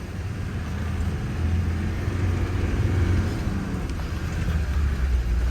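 A four-wheel drive vehicle rolls over a gravel track in Queenstown, New Zealand, giving off a continuous low engine rumble mixed with broadband road noise at a steady, moderate level.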